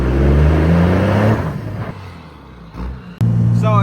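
A lifted 2nd Gen Cummins truck rumbles on a test ride, its diesel engine droning loudly, easing off briefly, then surging again as it accelerates with a rising whir.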